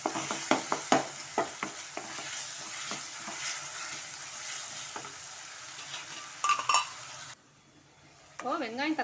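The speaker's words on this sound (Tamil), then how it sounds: "இப்போது இதோட நான் இஞ்சி பூண்டு பேஸ்ட் சேர்க்குறேன்" Ginger garlic paste sizzles in a hot pan while a spoon scrapes and clinks against the metal in short strokes, a steady frying hiss underneath, before a voice starts speaking at the end.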